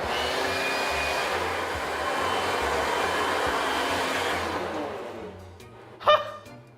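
A vacuum cleaner runs steadily with a loud, close whine for several seconds, then cuts off, followed by a brief clatter.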